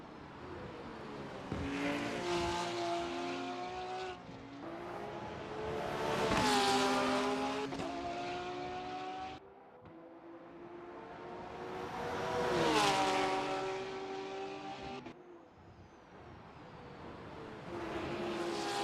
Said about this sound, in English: We see some cars in the pit lane.